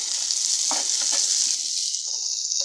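Finely chopped tomato sizzles loudly and steadily in a pan with fried onion, a constant close hiss with a few soft stirring clicks partway through.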